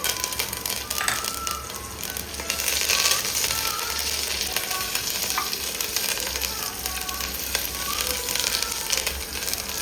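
Curry leaves and ground pepper hit hot oil for a goat bone (nalli) soup, giving a steady, close crackling sizzle that holds through the whole stretch with a brief swell near the middle, no talking.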